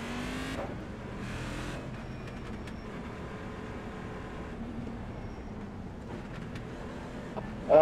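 Race cars, including a Cadillac CTS-V, circling the Indianapolis road course, a steady mechanical roar from a distance with engine notes swelling and fading as cars pass, and no voices.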